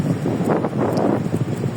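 Cold wind gusting steadily against the microphone outdoors, a loud, continuous rushing roar with no pauses across the short stretch.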